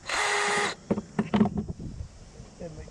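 A short burst of a high-pitched whirring drill running for under a second, followed by clattering handling noises and faint movement.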